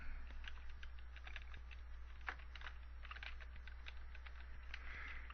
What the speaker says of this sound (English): I want to type in my URL